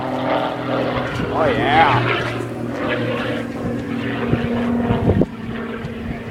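Aerobatic propeller plane flying past at the Rhode Island open house air show 2014, a loud droning engine roar that swells and sustains, with crowd members talking briefly nearby.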